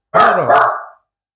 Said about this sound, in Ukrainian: Оказывается, собака гавкать умеет.